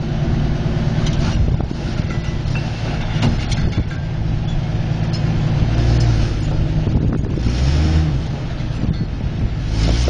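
Tour vehicle descending a steep desert slope in Wadi Rum, a continuous loud engine drone with heavy wind buffeting the microphone, heard from nearby outside the vehicle with no talking.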